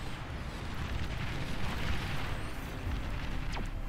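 A geothermal plant blows up in the Beyond All Reason strategy game, setting off a chain of explosions heard as a rumbling, continuous roar of booms and bursts with a sharper crack near the end.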